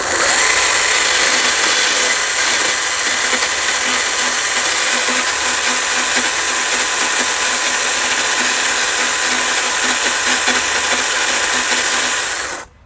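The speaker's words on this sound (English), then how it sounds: "All I'm doing is working the saw back and forth in between so I can gouge it down." A chainsaw gouging into a 2x4 as a small bear is carved, a loud, unbroken high-revving buzz that holds steady for about twelve seconds before cutting off abruptly.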